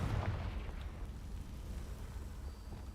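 A Confringo fire spell cast in Hogwarts Legacy bursts with a low, rumbling boom at the start, then settles into a sustained dull roar of continuous low-end energy with no voices.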